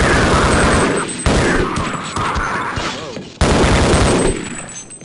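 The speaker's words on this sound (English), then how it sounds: "it seems like the assault rifle is less agonizingly loud in this demo" Assault rifle fire in Half-Life: Uplink, loud rapid bursts that cut in and out abruptly in several sections, with crashing impacts and a voice speaking underneath.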